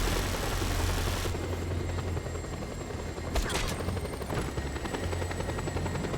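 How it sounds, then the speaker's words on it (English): Video game helicopter flying overhead, a loud continuous rotor thrum that swells and fades, with brief bursts of gunfire mixed in. "I'm gonna get shot at by a fucking chopper."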